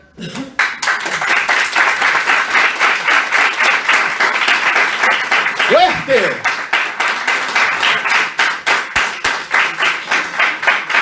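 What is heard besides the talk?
congregation clapping hands in praise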